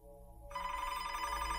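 A telephone rings in a horror story narration, a steady electronic ring starting abruptly and holding clear and fairly close with no talking over it.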